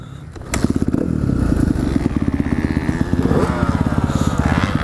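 A Kawasaki KX250F four-stroke dirt bike engine starts up and runs nearby with a loud, rapid, pulsing thump that rises as it revs, heard alone without talk.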